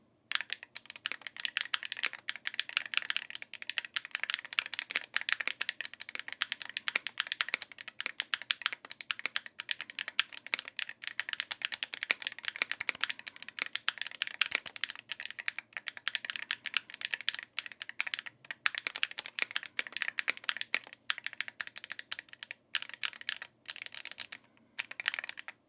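Steady, dense typing on an MG68PRO Hall-effect mechanical keyboard with an aluminum case, a continuous stream of close, crisp keystrokes with no talking.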